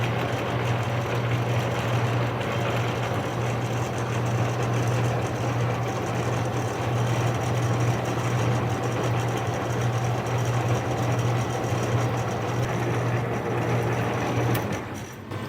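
A metal lathe taking a light threading cut of about two thousandths of an inch, with the half nut engaged, gives a steady, close motor hum and drone that runs unbroken for about fifteen seconds before easing off at the end.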